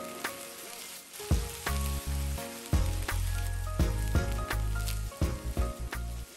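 Cherry tomatoes hit a hot frying pan already holding dry wine for a lobster pasta sauce, giving a steady loud sizzle with bursts of crackling and spitting as they are packed in and stirred, no voices.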